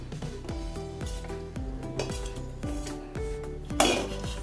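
Lotus seeds (makhana) roast in a pan while a utensil stirs them, giving a close, continuous run of metallic scrapes, clinks and light rattles with no voices.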